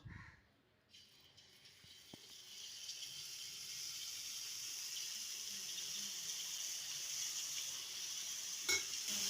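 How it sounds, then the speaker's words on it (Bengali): Boondi batter drips through a perforated ladle into hot oil, setting off a steady, close sizzle of frying that swells after a short quiet start and holds bright and even, with no voices. "একসঙ্গে খুব বেশি দেব না, অল্প অল্প দিয়ে ভেজে নেব।"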